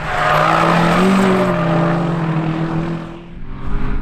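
A loud, high-revving Mini race car engine, running with a fault, roars steadily on a track at Nutts Corner with a sustained whine, easing off briefly before surging again near the end.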